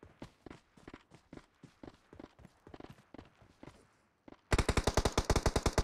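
Gunfire in a PUBG Mobile match: a string of sharp single shots at a steady pace, then a loud, rapid automatic burst near the end, close and dominant with no talk.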